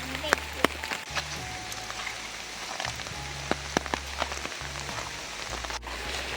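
Steady monsoon rain patters on a surface among plantations and paddy fields, with a low droning hum underneath and occasional louder drops tapping close by.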